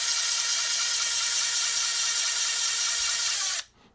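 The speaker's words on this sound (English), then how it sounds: "just running it in the drill like that" A power drill spins a ratchet steadily to break it in, giving a continuous high whirring whine at close range that holds even, then cuts off abruptly at the end.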